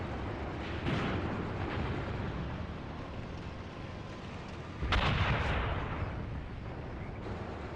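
Battlefield gunfire from the WWII tank game Graviteam Tactics: Mius Front, set at Belgorod-Kharkov in 1943: a steady dense rumble of combat with heavy booming bursts near the one-second mark and a louder blast around five seconds.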